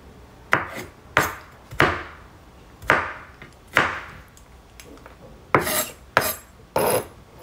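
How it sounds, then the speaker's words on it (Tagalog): A knife slices garlic cloves into evenly sized pieces on a cutting board, giving about eight crisp, close, evenly spaced cuts with short pauses between them. No one speaks. "Kaya hindi ako naghihiwa lang ng bawang na basta hiwa lang ng bawang"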